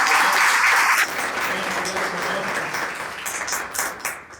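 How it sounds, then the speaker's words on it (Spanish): A church congregation applauds during a sermon: loud, dense clapping for about a second, then lighter clapping that thins out into scattered claps near the end. "Démosle otra vez un aplauso."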